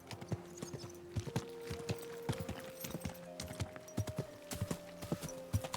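Steady clip-clop of horse hooves at a walking pace in Kingdom Come: Deliverance II, evenly spaced and fairly close, with a low sustained tone underneath.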